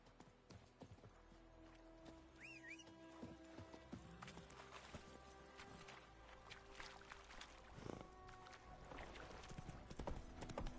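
Hooves of Roach, a horse in The Witcher video game, clip-clop in a steady trotting rhythm close by, with faint ambient game sound beneath and no talk.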